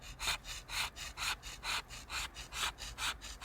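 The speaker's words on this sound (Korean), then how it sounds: "끈을 이용해 돌 위에 표면을 긁어내자 회색 가루가 쏟아진다" A string scrapes across the surface of a Nampo inkstone rock, loosening grey powder in a steady rhythm of about eight even rasping strokes, close and fairly quiet.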